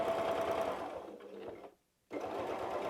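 A sewing machine stitches steadily while free-motion quilting Easter-egg shapes on fabric, a close rapid humming chatter that slows, stops briefly, then starts up again at full speed.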